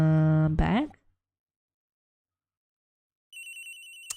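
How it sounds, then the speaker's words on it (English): A telephone ringing in the Ace Attorney Trilogy game: a synthetic electronic ring in short repeated pulses near the end, following a brief burst of speech and a stretch of silence. "Yes, that's how a phone rings."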